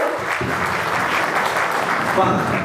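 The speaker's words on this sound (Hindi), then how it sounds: "ताली बजाओ।" Applause from a gathering of lawyers in Hapur, a dense, steady burst of clapping that fills the space at close range, loud and continuous throughout, with a voice faintly audible beneath it.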